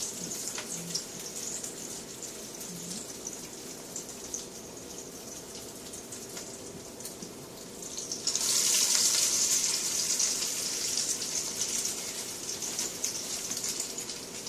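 Salmon croquettes go down into a frying pan of oil, a steady close hiss that swells into louder, brighter sizzling partway through and then holds.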